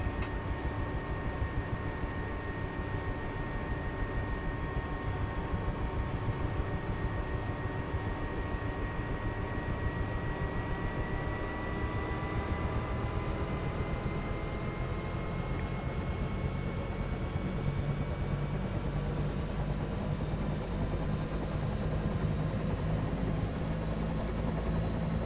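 The turbine engine of a Bell UH-1H Huey helicopter in the DCS simulator spools up with a steady whine that rises slowly in pitch over a constant low rumble, heard alone without speech.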